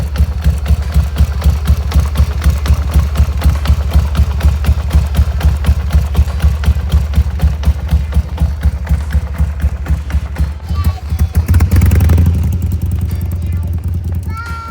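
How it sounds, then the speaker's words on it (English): A 2001 Harley-Davidson Sportster idles up close with a pronounced, lumpy lope, its uneven beat steady for several seconds before a short rev swells near the end. "The engine's got a pretty good lope to it."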